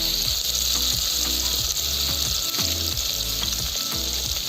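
Chopped green chilli and onion fry in a pan outdoors in the fields in the evening: a loud, steady sizzle, close by, broken by repeated scraping stirs.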